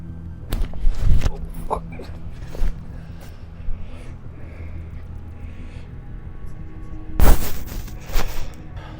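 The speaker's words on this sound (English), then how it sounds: "I'm pretty sure I've just heard gunshots." Two sharp, booming cracks ring out, one early and one late, with some shorter pops between, sounding like distant gunshots over a low outdoor rumble.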